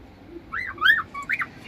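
Pet sparrows in a home setting give a few short, clear chirps and whistled calls in quick succession. The calls sound close and fairly quiet over a faint background hum.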